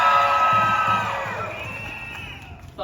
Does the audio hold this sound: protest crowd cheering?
yes